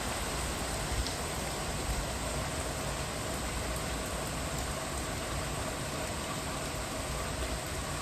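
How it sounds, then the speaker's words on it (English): Steady rain falls outside in a dense, unbroken hiss that holds evenly throughout, with no voices over it. "It's raining!"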